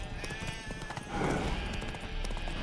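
Roach, Geralt's horse in The Witcher 3, clops along with brisk hoofbeats and a brief snort or whinny, the rhythmic steps steady over a busy game backdrop.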